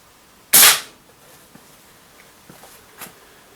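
A single-shot break action gun with shell ejection fires one sharp, loud report outdoors, followed by quiet handling clicks and faint footsteps.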